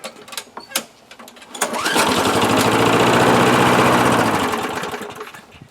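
An old 1998 Murray lawn mower engine catches after a few clicks and pulls, roars loudly and steadily for a few seconds, then winds down and dies, all close by.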